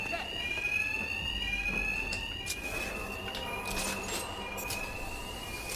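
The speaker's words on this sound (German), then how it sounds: "Meine Angriffe werden vom Alarm überdeckt." A wailing alarm blares in the Batman: Arkham Knight video game, its rising and falling electronic tone sweeping steadily through the scene while someone talks over it and bursts of game action crackle behind.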